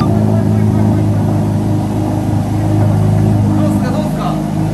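A car engine runs close by in a steady, loud low hum that holds evenly throughout, with people talking over it.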